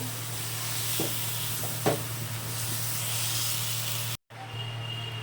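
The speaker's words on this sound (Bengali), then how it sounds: "এবার তেল দিয়ে দিলাম আমি" Oil poured into a hot pan just after frying soybean chunks gives a steady, close hissing sizzle with a few faint clinks. The sound drops out briefly near the end, then resumes more quietly.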